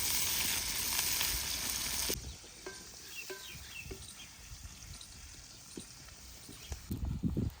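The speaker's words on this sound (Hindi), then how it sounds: "घी के गर्म होने पे साथ ही हम कढ़ाई में डालेंगे प्याज" Onions frying in ghee in a kadhai make a quiet sizzle, louder at first and then softer, with scattered stirring taps and a brief rustle at the end.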